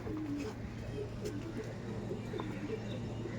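Rampuri pigeons in a loft give soft, low cooing under someone talking, with a steady murmur of birds close by.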